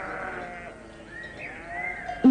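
Sheep bleating in a few wavering calls, moderately close, with a quiet background.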